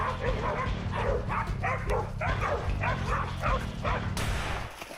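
Several hunting dogs bark and yip in a rapid, excited series during a wild boar hunt, fairly close, ending abruptly near the end.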